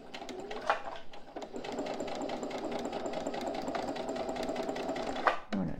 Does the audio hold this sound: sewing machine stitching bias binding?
yes